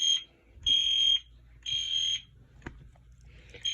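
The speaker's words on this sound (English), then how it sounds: "Definitely a false alarm." A school fire alarm sounds in repeated loud electronic beeps of about half a second, separated by short gaps, with a sharp knock between pulses.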